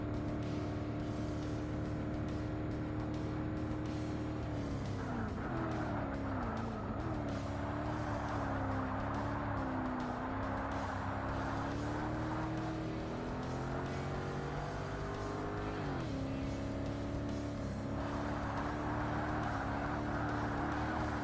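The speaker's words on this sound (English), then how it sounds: "I'm sliding. That was a lot of sliding." A race car in Forza Motorsport sliding around an endurance track, its engine droning loudly and steadily with pitch dips and swells as the tires lose grip through the corners.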